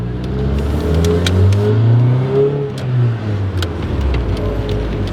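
Honda Civic out on the road for a test drive, its engine revving up and easing off through a few gear changes, close and fairly loud, with steady road noise underneath and no talk.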